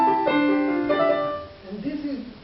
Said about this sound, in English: If I would play Mozart, the same technique, it will sound awful